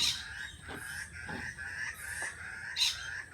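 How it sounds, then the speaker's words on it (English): A rooster crows repeatedly among other fowl, with loud, drawn-out calls rising and falling over several seconds and quieter clucks in between, nearby and outdoors. "I do apologise for all the bird noises"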